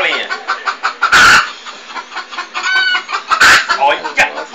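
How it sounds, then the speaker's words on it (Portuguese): Hen clucking up close in a loud burst sequence, with repeated sharp squawks standing out over excited talking nearby. "O que foi, galinha?"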